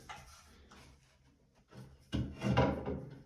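A loose wooden faceplate from a broken bathroom vanity drawer is handled, with soft rubs and knocks at first, then louder wooden clatter and scraping near the end, close by with no talk.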